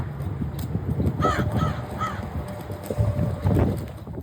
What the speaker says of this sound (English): Crows also have a similar repertoire of calls, and their most common call is...